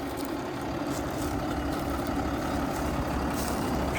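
A Steyr 6340 tractor's diesel engine runs at a steady idle nearby on a farm, an even low rumble with no speech over it.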